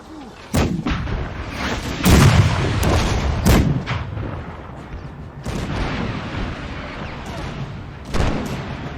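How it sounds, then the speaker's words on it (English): Napoleonic artillery in a Waterloo battle of Napoleon Total War, loud repeated cannon booms firing in irregular succession, some overlapping into a rolling barrage with rumbling tails between shots. "with all this artillery just shooting constantly"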